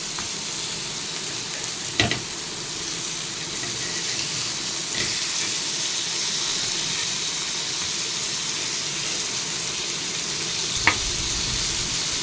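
Odisha-style snake gourd masala frying in a pan makes a dense, even hiss that holds steady throughout, with a few sharp clicks from the utensil.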